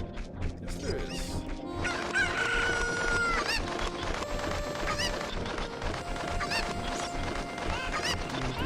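Cucco chickens in Zelda: Ocarina of Time crow and cluck over busy game sound effects, with repeated calls throughout.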